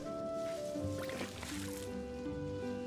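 Water pours over a rain flower cactus in the Wildmender video game, a short soft splashing trickle lasting about a second, laid over steady tonal game music.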